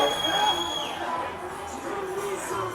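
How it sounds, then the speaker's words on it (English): Crowd cheering along the route of the Tour de France publicity caravan as the Gaulois float passes, a steady outdoor roar of many voices with shouts and whistles, kept up throughout with no clear peaks. "The Gaulois is getting a lot of cheering."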